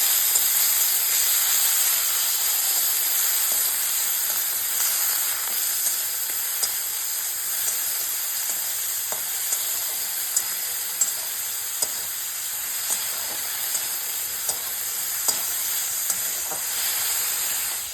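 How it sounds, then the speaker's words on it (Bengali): Prawns lightly frying in a pan, a loud continuous sizzle and hiss with occasional small pops and crackles, close and steady throughout with no talking. "জাস্ট হালকা ফ্রাই করে নেবো চিংড়ি মাছটা।"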